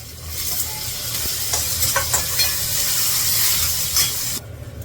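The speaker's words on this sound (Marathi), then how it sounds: "टमाटा पण परतून घेते टमाटा आणि कढीपत्ता" Tomato and curry leaves sautéing in a hot pan, a loud continuous hissing sizzle close by, broken by a few soft scrapes and stirring knocks, quieting suddenly near the end.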